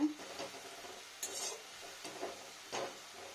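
Radish greens being stirred and turned over in a cooking pan: a few quiet, soft scraping strokes spaced across a few seconds, faint and close, with no talking.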